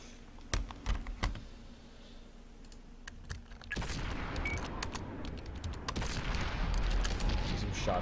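Tank guns fire in a team tank battle video game, a few sharp isolated shots followed by a sustained, busy stretch of rapid crackling gunfire and explosions, moderately loud and without clear talk.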